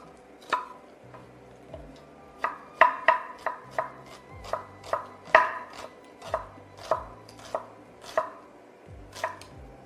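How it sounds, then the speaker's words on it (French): Ingredients for shrimp nasi goreng being chopped into very small pieces with a knife on a board, a steady run of close, crisp thuds in an even rhythm. "On va simplement juste les hacher en très petits morceaux"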